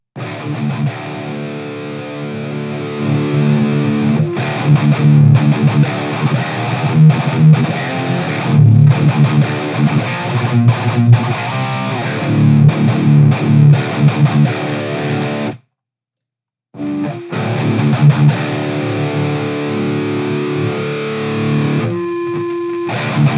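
Distorted electric guitar played through a Boss Katana Gen3 amp with bloom, contour and boost engaged, loud and continuous with chorus-like effects, a brief full stop around sixteen seconds before the riffing resumes.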